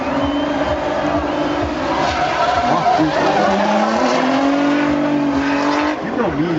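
A drift car slides and skids around a track at a drifting competition, its engine revving hard and wavering in pitch amid a sustained loud roar, with tire squeal and a crowd faintly behind.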